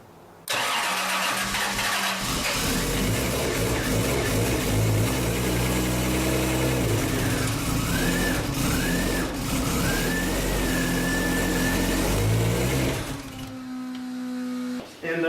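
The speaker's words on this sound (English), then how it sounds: "Then go ahead and fire it up." A Toyota 2JZ engine cranks, then fires and runs loud and uneven for about twelve seconds with a few rising whines, before dropping back near the end.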